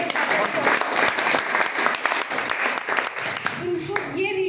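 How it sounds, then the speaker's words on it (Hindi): Seminar audience at an IMC business leadership training event breaks into sustained applause, dense clapping throughout with voices mixed in and fading toward the end. "उनका भी एक ताली होनी चाहिए"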